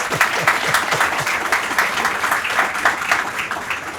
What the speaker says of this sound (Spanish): Un fuerte aplauso para nuestro querido candidato.